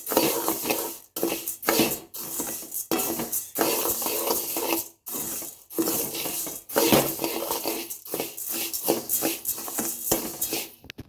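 Black urad dal and green gram dry-roast in a pan, rattling and scraping in irregular bursts as a utensil stirs them, with short pauses between strokes; close and fairly quiet.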